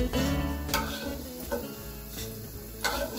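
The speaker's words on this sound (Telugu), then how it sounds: "ఈ అలసంద వడియాలని వేసేసుకొని ఫ్రై చేసుకుంటున్నాను" Cowpea lobia papads frying in hot oil, a dense continuous bubbling sizzle with a few sharp clinks of a utensil against the pan at irregular intervals.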